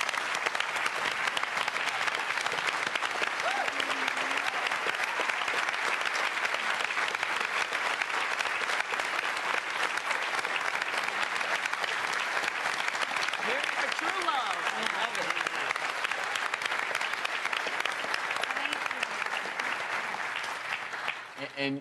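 A studio audience on a Christmas special applauds a wounded veteran while standing, loud sustained clapping throughout with voices faintly underneath, tapering off at the end.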